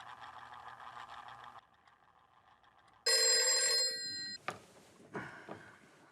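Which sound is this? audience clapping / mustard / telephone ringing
telephone ringing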